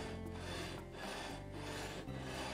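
Sandpaper on a metal sanding block worked lightly along the frets of an acoustic guitar neck, a close, quiet rasping rub in a few back-and-forth strokes with short pauses between them.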